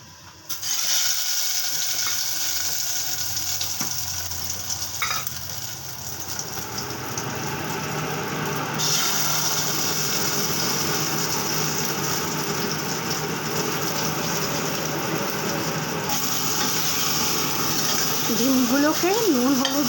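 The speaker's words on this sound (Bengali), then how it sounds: "এই যে ইলিশ মাছের ডিমগুলোর মধ্যে নুন হলুদ মেখে রেখেছি, এগুলোকে একটুখানি ভেজে নিচ্ছি।" Hilsa fish roe rubbed with salt and turmeric fries in oil in a kadai, making a loud, constant sizzle and crackle with occasional stirring scrapes that runs unbroken throughout.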